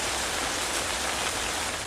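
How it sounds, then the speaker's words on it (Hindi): Heavy rain falls in Bhaderwah, Doda, as a dense, steady hiss of downpour that stays loud and constant with no voices. "डोडा के भद्रवाह में तेज बारिश हो रही है"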